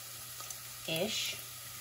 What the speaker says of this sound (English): Salt, and fry those onions and peas for about 5 minutes